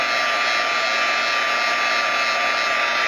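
A hair dryer runs steadily and loudly throughout, blowing air to dry paint on a small craft project finished with a peeled-paint aged paint system, its constant whooshing hum never changing.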